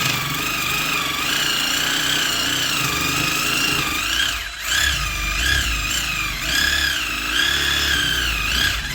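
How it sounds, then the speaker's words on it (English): A Sawzall reciprocating saw cutting through a pig's bone during home butchering, a steady, loud, continuous motor whine with a buzzing rasp that runs almost unbroken and dips briefly midway. "Now I have a handsaw, but I'm going to try to do this with a Sawzall."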